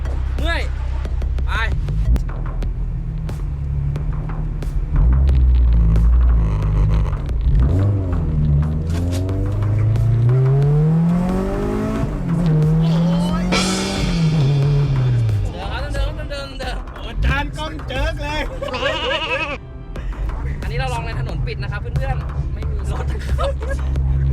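A Honda Civic EK9 Spoon on a test drive, its engine revving and rising through the gears with a steady in-car rumble, loud and close, while people talk throughout.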